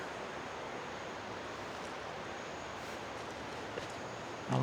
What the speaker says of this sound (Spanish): también atrás está el río, entonces se escucha